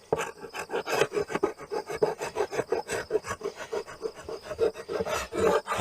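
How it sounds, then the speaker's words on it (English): A mark is rubbed off a wooden beehive with quick, rhythmic scraping strokes, close and fairly quiet, with no voices. "I'll rub out the queenless mark."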